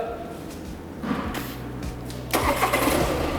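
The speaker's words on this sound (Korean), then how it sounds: "시동 한번 걸어볼게." A car engine cranks and fires after engine repair work, then settles into a steady idle. There is a short burst at catch and a louder surge near the end, with faint voices in the background.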